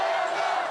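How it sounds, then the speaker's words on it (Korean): Citizens gathered at a public viewing of a football match roaring together in a brief, dense burst of crowd cheering, loud and close. "시민들은 환호했지만"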